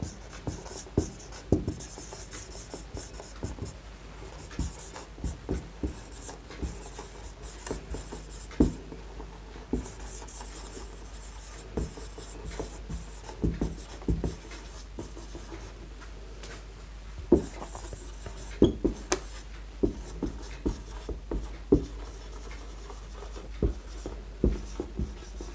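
Pen or chalk writing through a Class 11 physics lesson on work, energy and power, a continuous run of quick close taps and scratches with short pauses between strokes.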